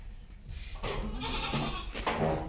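Goats on a farm bleat close by, a couple of loud, wavering calls in quick succession.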